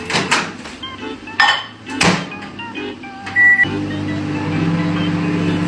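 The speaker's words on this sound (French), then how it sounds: "On va mettre le beurre président au micro-ondes" A microwave oven runs a steady low hum with a fan-like whir as Président butter heats inside, preceded by clinks and a brief beep; voices speak briefly near the start.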